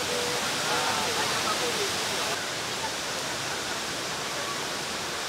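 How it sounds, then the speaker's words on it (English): An indoor waterfall pours from the roof of a hotel at Singapore Airport, giving a steady, even wash of rushing water that fills the whole space, with a voice briefly audible over it. "This is actually a waterfall coming from the roof."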